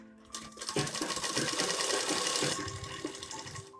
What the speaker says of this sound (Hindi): अब यहाँ पे सिलाई शुरू करेंगे